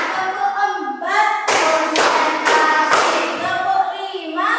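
An Indonesian school class claps in a counted rhythm, a sequence of sharp group claps in separate bursts, with children's voices chanting between them.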